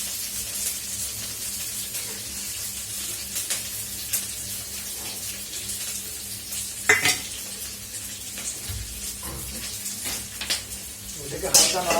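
Onion petals and thick-chopped garlic stir-fry in a pan for crispy chilli baby corn, making a steady, close hiss of frying with occasional scrapes and stirring knocks.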